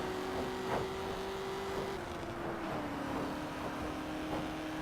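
A faint, steady supercharged car engine drone in the PC game Test Drive Unlimited holds a constant pitch, dipping slightly partway through, with a thin whine riding above a muffled background.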